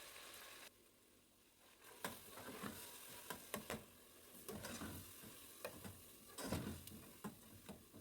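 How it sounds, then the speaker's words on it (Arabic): Chopped onion fries with pigeon livers and gizzards in a pot, a quiet steady sizzle broken by frequent sharp clicks and scrapes of stirring. "هنزل بالبصل على الكبد والقوانص وهحمر بقى لحد ما البصل بتاعي يبتدي ياخد لون"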